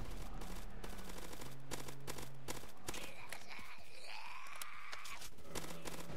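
Rapid automatic M4 rifle fire in the Roblox game Zombie Uprising, with dense repeating bursts that stay loud and steady throughout amid game sound effects.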